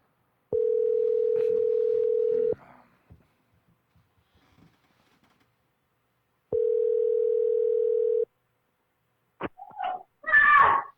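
A telephone dial tone sounds in two steady, loud stretches of about two seconds each while a call is being placed, separated by quiet, with brief animal-like noises and rustles near the end.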